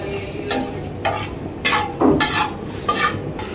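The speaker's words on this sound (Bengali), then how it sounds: "শুকনো মরিচ ভাজা হচ্ছে" Dried chillies fry in a pan, repeatedly scraped and stirred with a utensil in short loud strokes about every half second over a steady sizzle.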